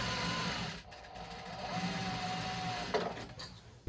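Sewing machine stitching the seam of a rolltop rucksack, a steady close mechanical whirr that runs continuously with brief pauses and small clunks near the end.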